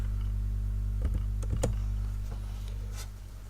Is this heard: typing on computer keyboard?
yes